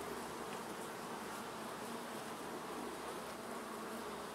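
Honeybees from a small, weak hive drone steadily around an opened box during an inspection, a continuous close buzz with no talking.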